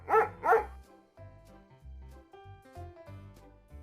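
A small brown puppy gives two quick, high yapping barks in succession, close and loud, followed by a gentle melody playing alone.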